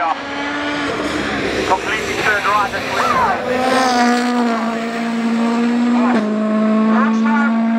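Ferrari-powered Lotus race car at the Simola hillclimb, its engine screaming loud and steady at high revs as it shifts up through the gears, with a commentator talking over it.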